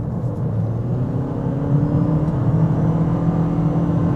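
A Toyota Corolla 2.0 Hybrid Touring Sports accelerates with the engine holding a steady droning pitch, a loud continuous hum and rumble from inside the cabin with no talk.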